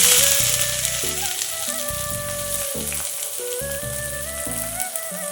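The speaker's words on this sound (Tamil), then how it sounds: "கருவேப்பிலை, எல்லாத்தையும் நல்லா வதக்கி விட்டுடலாம்" Finely chopped shallots and curry leaves sauté in hot oil for a crab gravy, giving a dense, steady sizzle like rain, close up, over a tonal background layer.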